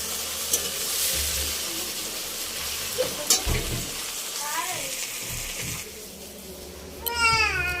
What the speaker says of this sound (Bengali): চিংড়ি মাছটা এবার ভেজে নিচ্ছি